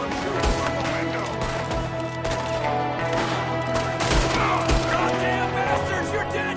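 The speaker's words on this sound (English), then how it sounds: "There's another one shooting from the window" Shots ring out in Red Dead Redemption 2 as an enemy fires from a window, with sharp, scattered cracks over a busy background of game sound and music.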